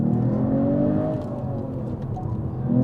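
A Mercedes-AMG CLE53 coupe of about 440 horsepower accelerates, its engine note piped through the cabin speakers rising smoothly in pitch as a loud steady hum, then dipping at a gear change before climbing again.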